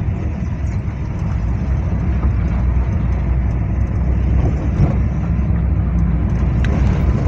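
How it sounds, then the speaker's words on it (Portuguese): A car drives along at steady speed, heard from inside the cabin as a continuous low engine and road rumble with no talk, fairly loud and unchanging throughout. "A gente tá andando de carro um pouco."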